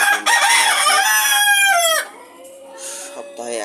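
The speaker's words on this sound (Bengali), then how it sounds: "এই যে এখানে আছে ফার্মে মুরগি" A rooster on a poultry farm crows loudly and close by in one long drawn-out call, followed by softer clucking from chickens nearby.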